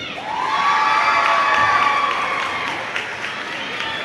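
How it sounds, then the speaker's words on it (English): Crowd at a high school basketball game at Morehead cheers and applauds loudly and steadily, with shouts and whistles rising over sustained clapping throughout. "Let's give one more round of applause for these dedicated and talented young men here at Morehead."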